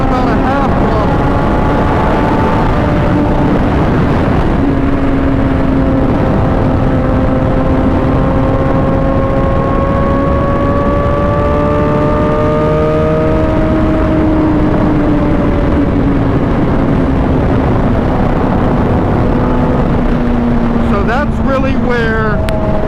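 A 2011 Suzuki GSX-R 750 pulls at half throttle in sixth gear, its engine note a loud, steady drone that climbs slowly and is heavily buffeted by wind noise throughout.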